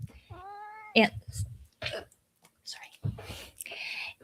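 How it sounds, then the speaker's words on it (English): A house cat gives a short rising meow early on during a video call about business books, followed by coughing, throat clearing and breathy voice sounds, all fairly quiet. "You heard a cat."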